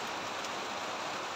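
Heavy rain pours down in a dense, unbroken hiss, loud and steady with no pauses or voices, like a downpour drumming close by.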